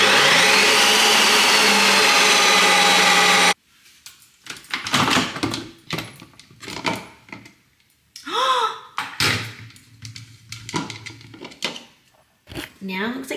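An ice cream machine respins protein ice cream with a loud, steady whirring drone for a few seconds, then cuts off abruptly, followed by handling clatter and a person talking.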